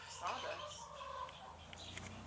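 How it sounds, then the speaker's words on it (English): Chickens cluck inside a barn, soft, scattered calls heard over steady low background noise. "Oh, chickens. There's some chickens in there."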